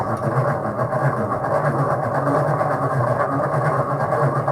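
A yarn ball winder spins with a swift as its crank is turned, giving a steady, fast mechanical whirring rattle that runs continuously and close by with no pauses.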